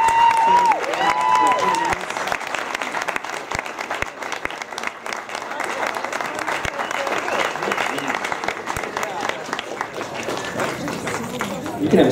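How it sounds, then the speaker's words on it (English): Sustained crowd applause at a fan convention costume contest, loud and continuous with scattered cheers and chatter mixed in, and people talking over the clapping. "So, another applause."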